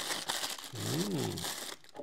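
A cellophane bag crinkles and crackles in close, irregular bursts while a Casio G-Shock GST-B400XD steel watch is unboxed. A short voice sounds in the middle.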